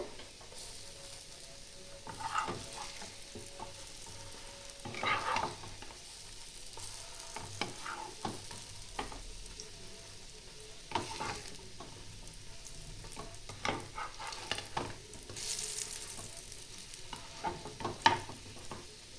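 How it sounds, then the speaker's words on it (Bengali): Red lentil fritters (masoor dal bora) fry quietly in hot oil, a faint steady sizzle broken by scrapes and clinks as they are stirred and turned, with no talk. "এইভাবেই আমি সবগুলোই ভেজে নেব।"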